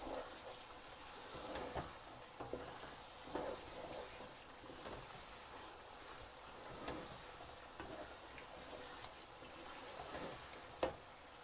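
Daal mash stirring and frying in a pan, a steady soft sizzle with faint periodic scrapes of the spoon, quiet and close.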